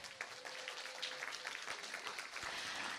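An audience at a symposium opening ceremony applauds teachers and children after a stage performance, a faint, steady patter of many hands clapping heard from a distance for a few seconds, with a brief tone and light noise in the room.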